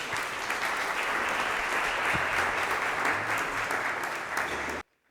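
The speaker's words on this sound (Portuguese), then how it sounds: "Eu vou pedir uma salva de palmas para eles novamente aí" Audience giving a sustained round of applause for the speakers at a panel on samba and the city, steady dense clapping from many hands that cuts off abruptly near the end.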